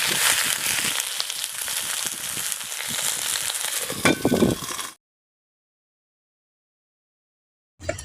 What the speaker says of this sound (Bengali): সেগুলোকে হালকা আঁচে ধীরে ধীরে ভাজতে হবে তাহলে চিংড়ি মাছগুলো খুব সুন্দরভাবে ভাজা হয়ে যাবে